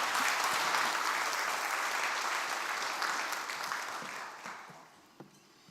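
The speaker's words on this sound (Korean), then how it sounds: "우리 박수로 환영하겠습니다." A church congregation claps to welcome the pastor before the sermon, a sustained even round of applause from many people that gradually tapers off near the end, leaving a single sharp knock and quieter room tone.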